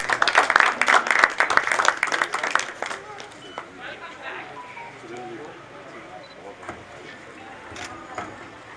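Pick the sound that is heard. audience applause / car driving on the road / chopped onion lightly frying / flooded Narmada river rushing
audience applause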